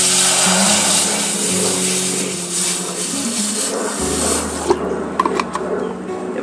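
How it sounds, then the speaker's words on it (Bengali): Water pours into a hot saucepan for dragon fruit flower tea, a loud, steady rushing stream lasting several seconds before it stops, followed by a few light clinks. "সসপ্যান গরম হয়ে গেলে পানি দিয়ে দেবেন"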